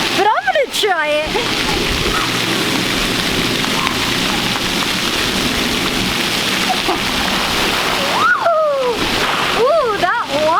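A child-sized green water park slide at a summer camp, with rushing, splashing water running steadily throughout and a voice exclaiming briefly near the start and again near the end.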